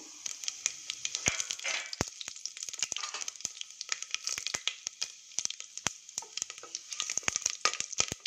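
Whole cinnamon, cloves, fennel and mace crackle and sizzle in hot oil in a pan, a steady fine frying hiss dotted with sharp pops and snaps, close and fairly quiet, with no voices.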